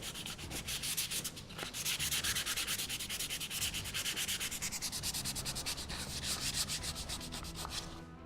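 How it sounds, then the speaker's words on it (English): Sandpaper worked by hand across a piece of timber to sand it flat, giving a continuous, close, steady scratchy rasp of quick back-and-forth strokes for the whole stretch, with no talking. "and just sand it off, sand it flat"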